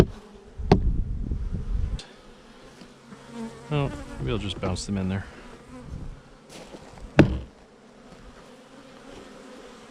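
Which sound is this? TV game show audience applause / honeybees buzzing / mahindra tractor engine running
honeybees buzzing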